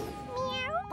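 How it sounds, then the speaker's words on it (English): A cartoon kitty gives a single clear, rising meow that sweeps upward in pitch, close and alone with a brief bright sound at the very end. "My sweet kitty!"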